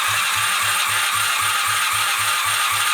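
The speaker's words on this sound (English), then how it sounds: "all I need to do now is turn the bike over with the throttle wide open." A Honda CB250 Super Dream engine cranks over on the starter with the throttle held wide open, a steady rhythmic chug of about three compression pulses per second, close and loud over a constant whirring hiss, with no voices.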